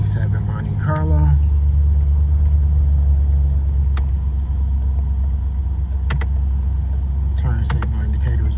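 A 1987 Chevy Monte Carlo SS on a test drive, its engine giving a steady low rumble and road hum inside the cabin, with a few faint clicks and brief talk near the start and end.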